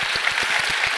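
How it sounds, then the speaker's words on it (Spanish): Applause for Camila Sosa Villada at a cultural talk: a brief, dense burst of clapping from an audience, loud and steady throughout. "Un aplauso para Camila"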